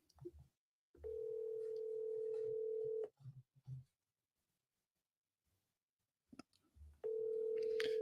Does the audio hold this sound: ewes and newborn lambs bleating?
no